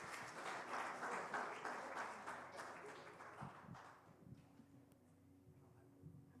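A chapel congregation claps together, a fairly quiet and distant patter that is strongest early and thins out after about four seconds, leaving low murmurs and faint voices.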